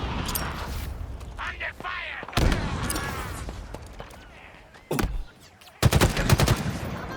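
Grenades and gunfire in the video game Halo Infinite: several sharp blasts and bursts of shots break out among a jackal enemy fight, with people talking over the loud in-game combat.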